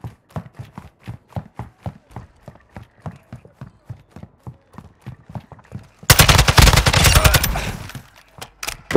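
Call of Duty gunfire: a long string of evenly spaced, muffled single shots ticking steadily, then a sudden loud, harsh burst of rapid automatic fire close up for about two seconds.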